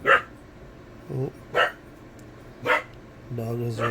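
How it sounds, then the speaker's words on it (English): A dog barks in short, sharp bursts, sounding upset, with four separate barks spaced about a second apart indoors, followed by a longer whining vocal at the end. "Dog is upset."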